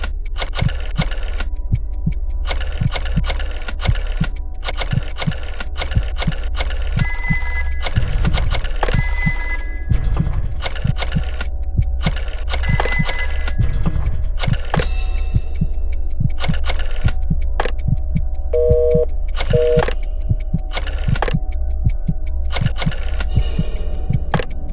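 A telephone ringing and a rotary phone being dialed in Jackbox Games 6: steady rapid clicking and ticking of the dial runs throughout, loud and close, broken by several bright ringing bursts.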